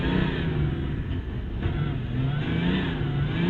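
A MINI ALL4 Racing Dakar rally car accelerates on snow and ice in Lapland, its engine droning loud and close with rising and falling revs under continuous throttle, no talk.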